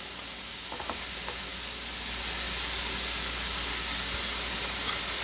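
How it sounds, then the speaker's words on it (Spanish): Chopped onion sautés in hot oil in a pan for stuffed rice, giving a steady, close hiss of sizzling that swells slightly and holds constant, with a couple of faint utensil taps early on. "Y vamos a dejar que sofría esto."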